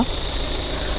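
Cicadas drone in a loud, unbroken high-pitched buzz outdoors beside an idling 2022 Audi Q3 Sportback 35 TDI quattro diesel, whose low engine rumble sits faintly beneath the insect noise.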